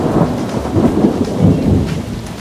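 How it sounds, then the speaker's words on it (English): Deep rolling thunder rumbles under steady rain as a big rainstorm moves in, loud and continuous with no voices. "And a big rainstorm was coming in."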